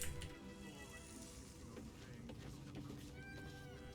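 A cat meows in a room over a dense backdrop of game music and sound effects from Baldur's Gate 3, with brief tonal cries rising above the steady mix.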